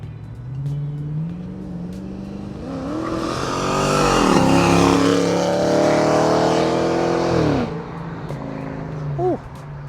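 A procharged 2010 Dodge Challenger pulls away down a street, its engine swelling from a low idle into a loud, rising rev for several seconds before easing off, with a brief blip at the end.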